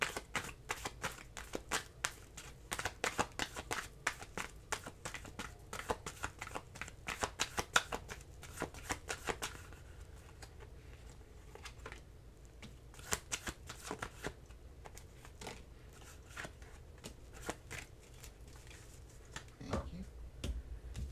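Tarot cards are shuffled close up, a rapid series of crisp riffling slaps and flutters in bursts, fairly quiet, with a brief soft voice near the end.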